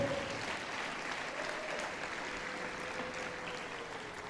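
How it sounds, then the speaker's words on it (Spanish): Congregation applause at an evangelistic service, heard as a soft, distant, even wash of clapping with no distinct claps, steady throughout. "Dele ese aplauso bien fuerte, que Él se lo merece"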